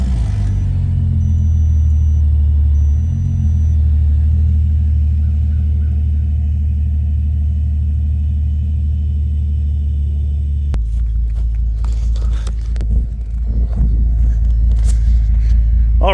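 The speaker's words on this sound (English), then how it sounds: "let's put her in drive and see what happens." A flood-damaged Bentley car rumbles steadily as it is put in drive, a loud close low engine drone that shifts and roughens partway through, with some clunks toward the end.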